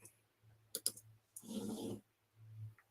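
Two quick mouse clicks of a control-click during a consignment sorting session, sharp and close, followed by a longer rustle and a low steady hum under brief pauses.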